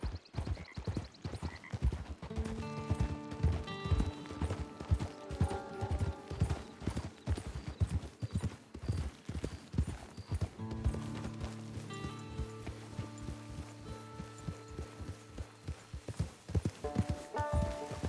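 Horse hooves clip-clop in a steady walking rhythm in Red Dead Redemption 2 Online, clear and close, with soft background music and a brief whinny.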